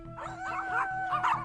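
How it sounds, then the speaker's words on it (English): A dog barks and yips in short bursts at moderate distance over a steady tonal background hum. "barking right back"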